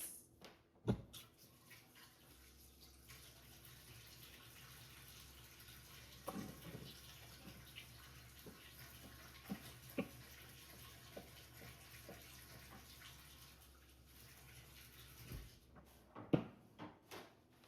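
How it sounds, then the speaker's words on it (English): Hands washed under a running kitchen tap at home, a steady low stream of water lasting over ten seconds with occasional clunks and knocks of handling nearby, no talking. "Wash my hands."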